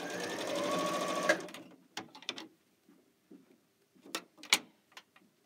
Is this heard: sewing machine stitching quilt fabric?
yes